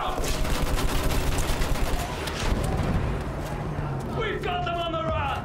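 Battlefield 1 battle with continuous machine gun fire and scattered shots in a dense barrage, loud and sustained, while a voice shouts over the din and a tonal cue rises near the end.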